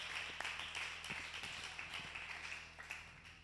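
Scattered clapping at a youth business seminar after a competition winner's cash prize is announced, faint and uneven, with individual claps audible across a few seconds.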